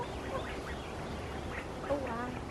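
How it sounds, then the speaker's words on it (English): Newly acquired ducks in a backyard coop call out with a few short quacking squawks over steady outdoor background noise, fairly close but not loud. "My friend got new ducks."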